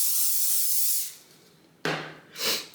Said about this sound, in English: I'm gonna spray this really well